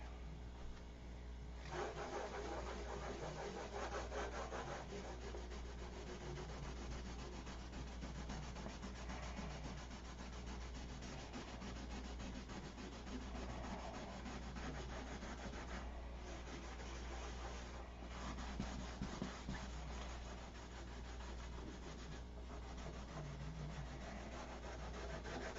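Steady rubbing sand-out of a first clear coat finish, a continuous close scratchy hiss with slight swells in pressure and a constant low hum underneath, no voices.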